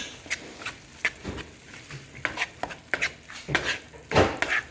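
A spoon clinks and scrapes against a pot while yogurt is stirred into simmering dal, giving irregular close knocks and scrapes at a moderate level with no talking.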